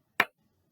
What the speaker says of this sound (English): To mark this out in class when we are speaking the rhythms, we use a clap.